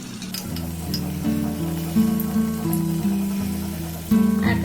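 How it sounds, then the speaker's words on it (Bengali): Pieces of chhana sweet fry in oil over a low gas flame, a close, steady crackling sizzle with soft bubbling and occasional louder spits and pan clinks. "গ্যাসের ফ্লেমটাকে একদম লো করে কিন্তু এগুলোকে ভাজতে হবে"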